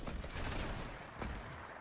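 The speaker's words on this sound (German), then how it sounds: "Asi sagt, noch ein Schuss." Rapid bursts of gunfire crackle in a dense, continuous volley during a Fortnite-style video game session, faint overall and with no talk heard.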